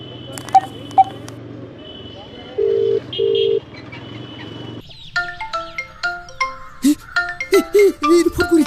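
Telephone being dialed: a few separate electronic tones and beeps, then a quick run of keypad tones at the end, with a background hum and some talk in between.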